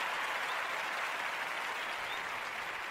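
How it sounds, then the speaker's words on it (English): Sustained, dense applause from an audience, steady and fairly loud throughout with no clear voices above it. "That deserves a round of applause."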